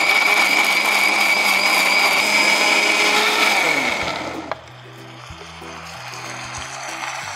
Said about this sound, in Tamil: Okay prestige delight bro mixie grinder தான் நான் யூஸ் பண்ணுறேன்.